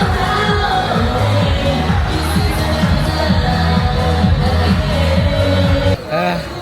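Dense, steady roar of a large festival crowd packed into a plaza during Kadayawan in Davao, with music pulsing underneath and scattered shouts, continuous and loud before briefly dipping near the end.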